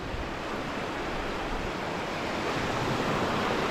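Ocean surf rolling onto a beach during surf fishing, a steady broadband wash of breaking waves with some wind, continuous and fairly loud throughout, with no voices.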